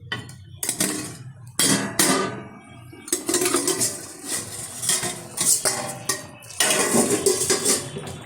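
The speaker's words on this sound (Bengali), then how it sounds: "ঢাকনাটা তুলে দিচ্ছি।" Clattering metal pot-and-lid handling in a kitchen where bhetki fish curry with potato and pointed gourd is cooking, several loud clanks and scrapes in bursts with short pauses, close and without talk.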